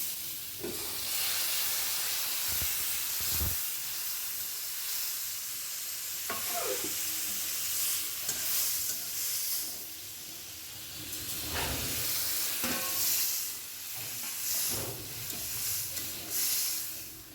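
A pot of sautéed vegetables, drumstick and broad bean seeds, simmering and sizzling after broth is poured in, with steady hissing and several sharp scraping stirs of a spoon against the pot.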